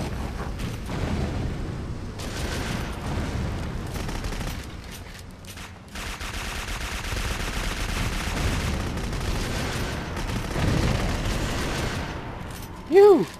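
Shotgun blasts and rapid gunfire from the video game Jericho rattle almost continuously through the scene, dense and loud, with a voice talking over the shooting.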